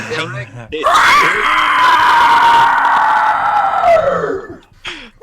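A person's voice lets out a long, harsh, wailing screech imitating a creature, loud and sustained for several seconds before trailing off.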